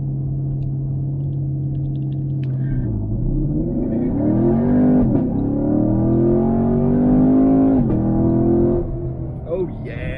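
A 2016 Chevrolet Camaro SS V8 revs hard on a launch, its engine note idling and then climbing and falling through loud, rising sweeps, with a voice speaking over it.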